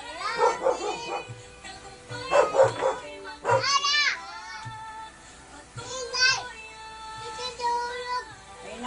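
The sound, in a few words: dog barking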